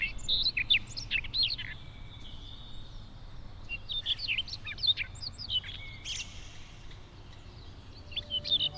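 A nightingale sings in an animated fairy-tale cartoon set in a royal palace: bright, rapid chirps and trills come in repeated bursts, close and clear over a low, steady background hum.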